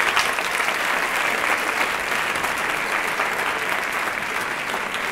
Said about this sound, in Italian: Facciamo un grande applauso ai presentatori della serata.